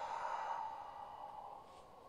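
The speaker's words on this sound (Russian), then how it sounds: "Дыхание уджайи." An ujjayi yoga exhale during a gentle gymnastics session, a soft, constricted rushing breath that fades slowly over about two seconds, faint and close without talk.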